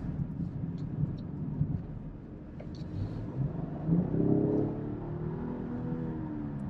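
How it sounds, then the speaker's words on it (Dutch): A BMW X5 E45 hybrid revs while driving off-road, its engine note swelling and climbing midway before settling back, heard faintly from inside the cabin with some wind rumble. "als je gas geeft, dan gaat hij toch zeker in toeren"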